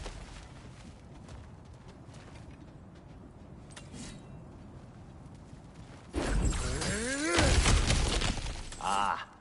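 Cracked ground smashed apart in God of War Ragnarok: after a quiet, rustling stretch a sudden loud shattering crash of breaking rock and debris bursts in and tumbles on for a few seconds.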